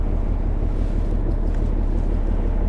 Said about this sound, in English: That wind is right behind me at an angle coming from the right.